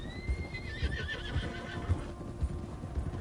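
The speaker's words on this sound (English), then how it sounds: "Ah, his horse answered him." A horse neighs in the Western video game Red Dead Redemption 2, a loud descending whinny opening the clip over steady clip-clop hoofbeats on dirt, which keep a regular walking rhythm throughout.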